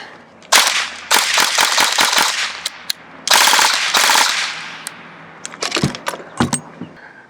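A Cyma AK airsoft rifle with standard trigger contacts fires in rapid full-auto bursts, loud and close, with gaps between strings and a few short single shots near the end.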